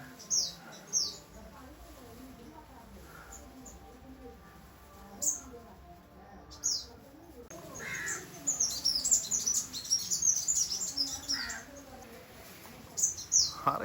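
Small birds in Jaffna, Sri Lanka chirp in short high tweets, sparse at first and then busier and denser, over a faint background murmur.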